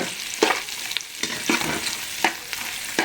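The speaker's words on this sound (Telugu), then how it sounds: "ఇప్పుడు శుభ్రంగా కలుపుకుందాం మొత్తం అన్నీ కూడా పచ్చివాసన పోయేలా" Mutton biryani masala being stirred and fried in a pan, with a steady close sizzle broken by sharp scraping strokes of the spoon at irregular intervals, heard alone without voices.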